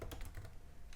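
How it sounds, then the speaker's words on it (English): Quick, light keystrokes on a MacBook keyboard while a command is entered, several soft clicks in a short, uneven burst, faint and close. "that is done by typing in the following command"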